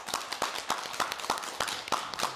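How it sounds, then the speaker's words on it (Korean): Studio audience applause on a Korean TV talk show, a fast run of dense clapping with sharp repeated hand slaps, moderately near and steady throughout, no voices. "여러분 박수로 맞춰주십시오."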